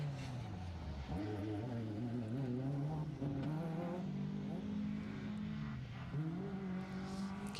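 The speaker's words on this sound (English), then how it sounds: "Keith Anglesey and Christine Pearson in the BMW making their way into stage 2." A BMW rally car drives a circuit rally stage, its engine note rising and falling through gear changes with a steady, fairly distant drone and brief tyre noise, heard alone without talk.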